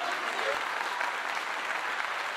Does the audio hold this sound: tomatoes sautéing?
no